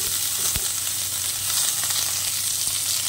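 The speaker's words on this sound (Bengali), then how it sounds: "দিয়ে ভালো করে নেড়ে চেড়ে একটু রেখে ভাজবো।" Pieces of star fruit fry in a pan with panch phoron spices, a steady close sizzle broken by a sharp stirring knock and light scraping.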